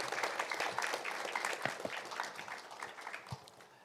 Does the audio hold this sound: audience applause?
yes